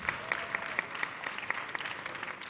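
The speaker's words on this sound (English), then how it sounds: "Please, a round of applause for all the firsts" A brief round of applause from an audience at a women's summit and expo, fairly faint and distant, with scattered distinct claps.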